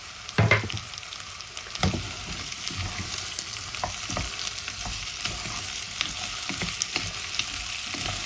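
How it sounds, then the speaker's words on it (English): Potato pieces dropped into a hot pan for an Italian potato soup with rice, a thump and burst of frying at the start, then a steady sizzle with occasional stirring knocks. "The potatoes will go in just like this."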